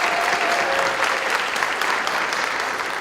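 An audience applauds steadily for the timekeeper at a 2017 candidate forum, a dense, continuous patter of many hands sustained at full level throughout.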